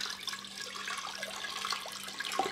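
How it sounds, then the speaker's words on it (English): Water pours steadily into a pot of tur dal before pressure cooking, a continuous close splashing and trickling with a faint hum underneath. "add some water."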